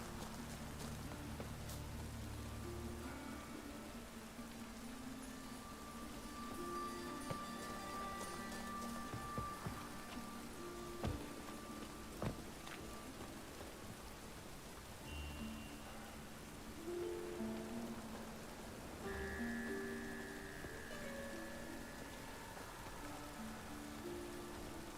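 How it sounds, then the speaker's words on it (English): Rain in The Witcher 3 falls as a steady, soft hiss across the whole stretch, with occasional faint drips and brief in-game sounds rising over the constant patter. "Running around in this rain."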